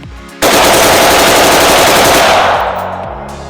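A rifle fires rapidly at a shooting range in one continuous loud burst of shots. The burst starts abruptly, runs for about two seconds, then the echo fades away.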